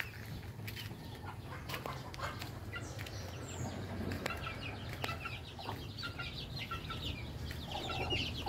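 Chicks and chickens in a chicken yard, scattered clucks and high peeping calls over a soft low hum, with brief wing flaps, all fairly faint and continuous.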